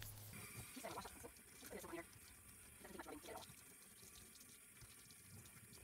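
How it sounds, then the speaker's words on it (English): A piece of rubber inner tube being washed under a running tap, faint steady water flow with soft splashing and rubbing, a voice talking over it. "you want to go wash that off with soapy water"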